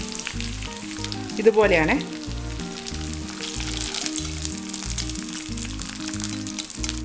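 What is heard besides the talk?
chicken frying in oil for Payyoli chicken fry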